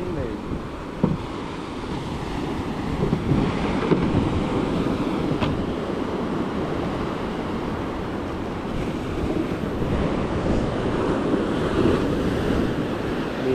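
Ocean waves wash steadily around a boat at sea on choppy water, forming a continuous rough roar mixed with wind buffeting the microphone, with faint voices now and then.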